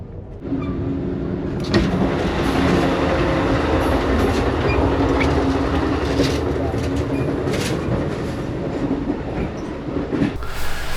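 An Amtrak passenger train rumbles steadily along the rails, a continuous loud interior roar with faint rhythmic clatter, heard from the hallway inside a carriage.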